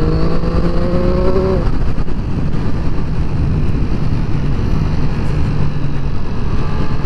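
A Triumph Triple RS motorcycle engine pulls steadily through an overtake on a cold road, its loud continuous drone mixed with heavy wind rush from start to finish.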